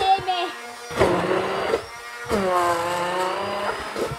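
Blender whirring as it mixes an Oreo milkshake, a steady motor hum that surges and dips across several pulses, close and fairly loud, with a voice talking over it.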